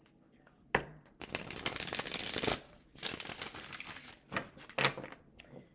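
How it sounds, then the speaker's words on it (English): Tarot cards are shuffled in quick riffling bursts, with soft flicks and shuffling rustles between them, fairly quiet and close. "let's get a good shuffle for Sagittarius"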